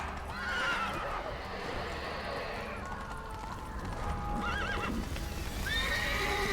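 A horse named Roach neighs and whinnies in The Witcher 3, with clip-clop hooves and game ambience around it and a few whinnies standing out over a steady background.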